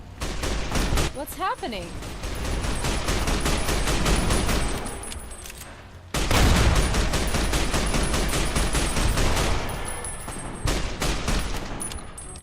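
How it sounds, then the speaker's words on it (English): Rapid bursts of gunfire from a Fallout: New Vegas battle against the NCR, loud and dense for most of the stretch with a brief lull midway, while someone speaks briefly over the shooting. "Why is he shooting the NCR? Is it because they're shooting me?"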